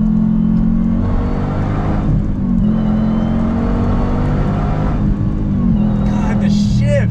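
A 2021 Dodge Durango Hellcat's supercharged engine roars at full throttle, a loud, sustained, rising drone with brief dips at gear shifts, while a man exclaims over it.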